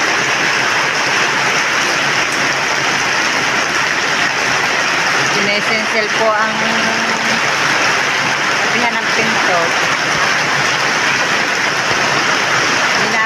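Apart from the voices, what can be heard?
heavy rain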